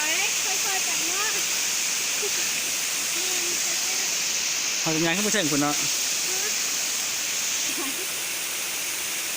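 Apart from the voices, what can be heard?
Tad Kon waterfall rushing water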